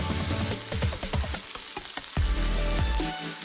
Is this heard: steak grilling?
yes